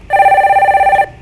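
A telephone rings with an incoming call during a live Korean stock-market call-in broadcast: one loud, clear electronic trilling ring lasting about a second, close and alone, then cutting off.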